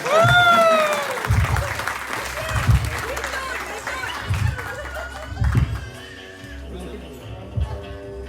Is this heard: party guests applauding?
yes